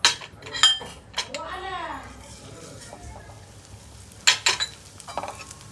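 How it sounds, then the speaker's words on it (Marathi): Vermicelli fries in ghee for a sweet kheer, heard as a soft sizzle with clinks and scrapes of a utensil against the pan, under a woman's speech and a voice in a kitchen. "आपण अजून थोडं तूप ऍड करून त्याच्यामध्ये शेवई फ्राय करून घेणार आहोत"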